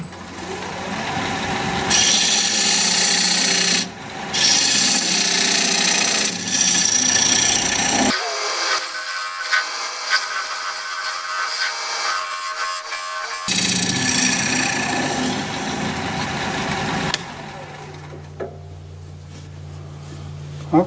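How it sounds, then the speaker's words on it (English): A wood lathe spins a bowl blank while a dovetail tool cuts into its side, giving a continuous scraping, rasping hiss with brief pauses and one quieter stretch of lower motor hum before cutting resumes. "Now I'm going to use my dovetail tool, put a dovetail on the side here"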